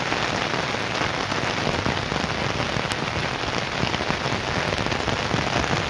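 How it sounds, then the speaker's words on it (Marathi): A village downpour near the swollen Tiru river hammers down without letup, loud and close, a thick even roar of raindrops striking surfaces throughout, no speech. "हे बघा पाऊस बघा, जोरात पडत आहे पाऊस"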